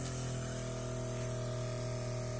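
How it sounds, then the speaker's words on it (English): A sprayer working over a deer food plot in the early morning gives a steady, close hiss of spraying liquid over a constant low pump hum, with no talk. "let's just see how this thing sprays"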